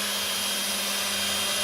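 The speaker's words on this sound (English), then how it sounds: "Got that hole drilled." A power drill whines steadily while drilling a hole in an elevator trim kit, a continuous, bright and fairly close mechanical hum with no talking.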